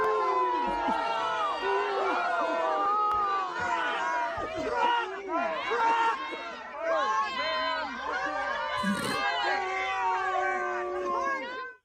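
A hostile crowd at a Wisconsin congressman's town hall shouts, jeers and yells over one another, a loud continuous roar of overlapping angry voices.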